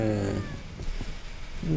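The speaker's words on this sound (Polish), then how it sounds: "Koty lecą z tego. Z nieba." Cats falling from the sky in the video game Postal 4 yowl and meow through game noise, fairly loud and close, mixed with a person talking.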